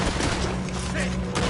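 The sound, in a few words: gunfire in the video game Red Dead Redemption 2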